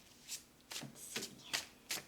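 New tarot cards are shuffled by hand in several quick, soft riffles and slides, each a short papery burst, close and fairly quiet.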